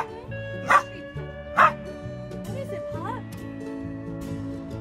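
Two sharp dog barks ring out over a backdrop of music, loud and close, spaced about a second apart.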